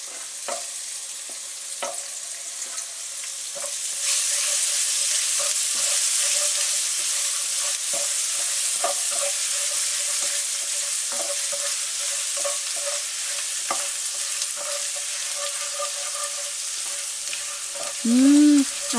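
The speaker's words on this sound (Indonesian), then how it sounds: "Kita masukkan bawang putih dan jahe yang sudah dicincang" Chopped garlic and ginger frying in a wok for General Tso chicken: a steady, loud sizzle with scattered stirring scrapes and clinks, with no voices.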